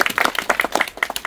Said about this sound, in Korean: 우리 특별히 오신 영양농협에 조심히 박수 한번 부탁드립니다